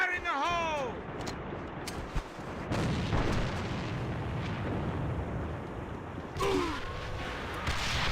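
A grenade detonates in the game AVA during a competitive match, a loud booming burst with a rumbling tail, followed by further gunfire-like bursts.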